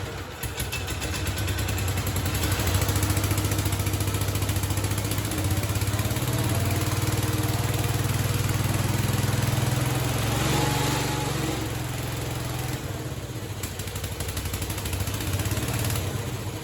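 The Kohler K321 engine of a Cub Cadet 149 tractor runs after a carburetor replacement that did not cure its fault. It gives a continuous, close, throbbing drone with a slightly uneven pulse that holds steady without stopping.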